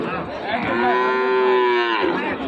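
A Sahiwal calf, six to seven months old, gives one long, loud, close moo at a border-area cattle market, rising and falling before it fades.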